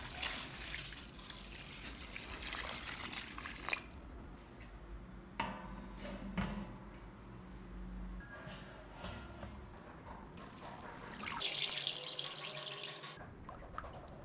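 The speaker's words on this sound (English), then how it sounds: "Give them water, drain, and cover again." Tap water runs and splashes while mung bean sprouts in a fruit bag are watered and drained, a steady close rush with drips and shifting squishy splashes, no voices.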